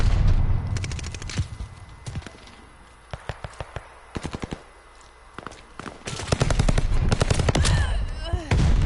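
Rapid automatic gunfire in Call of Duty: Vanguard, loud close bursts of rattling shots separated by brief gaps, with a sustained heavy volley at the end and faint background clatter between.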